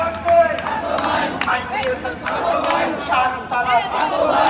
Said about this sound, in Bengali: ক্যান্সার হসপিটালের সামনে বিএনপির মিছিল চলতেছে